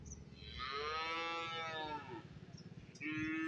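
Buffalo calves at a cattle market bellowing nearby, one long drawn-out moo followed by a shorter call, with a faint crowd murmur underneath.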